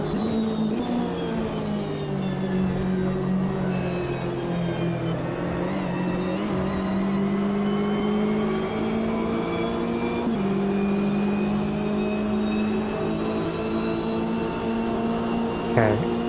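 BMW M8 race car engine in the Automobilista 2 racing game at Daytona: a loud, sustained high-revving drone held close, with pitch sweeping up through the gears and dipping briefly at shifts, plus a faint higher whine alongside.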